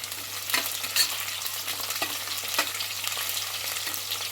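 Four or five green chilies stirred into hot oil for chicken pulao, repeated spoon scrapes against the pan over a steady close sizzle, with no one talking.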